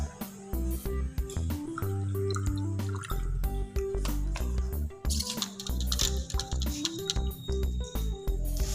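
Lemon juice is poured into a container for an acid-base experiment, making close, bubbly gurgling and trickling sounds that keep going in uneven bursts throughout.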